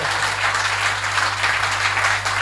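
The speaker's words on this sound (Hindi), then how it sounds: "डॉक्टर साहब इतने मन से ताली बजा रहे हैं" Steady applause from a live audience at a Hindi comedy poetry (kavi sammelan) show, dense and continuous clapping throughout with a low hum underneath and no voices.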